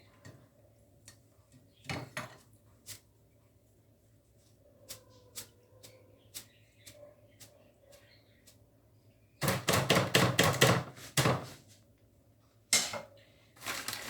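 Fried poha is shaken off a metal slotted spoon over a wok: scattered light taps, then rapid bursts of clattering metal knocks, close and sharp, with faint talking in the background.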